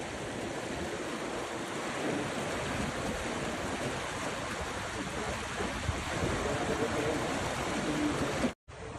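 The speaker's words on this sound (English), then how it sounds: "The heavy rains transformed once bustling roads into torrents of fast-moving water" Floodwater rushes through city streets in Girona, Spain, after heavy rain, a loud continuous roar of fast-moving water that holds steady for several seconds before a sudden short cut near the end.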